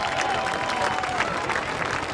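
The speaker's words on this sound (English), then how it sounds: "We ask that you give these men and women a big Caveman round of applause" A football stadium crowd at a high school hall of fame ceremony applauds the inductees, with steady, dense clapping and crowd noise throughout, and a faint voice in the background.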